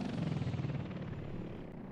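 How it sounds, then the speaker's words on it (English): Helicopters flying in the Soviet-era city-building game Workers & Resources: Soviet Republic, a steady close rotor thrum and engine drone that holds throughout without pause and with no talk over it. "all these choppers will be coming over here"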